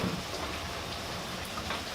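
Rain falling outdoors around a Masterbuilt smoker, a constant close patter of drops hitting surfaces, fairly loud and even from start to finish with no voices.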